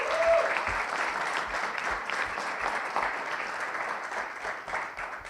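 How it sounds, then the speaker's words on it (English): An audience at an innovation fellowship pitching event in Turkey gives a round of applause to the mentors, a steady, fairly even wash of clapping from a crowd that carries on for several seconds. "Let's give a round of applause to all the mentors."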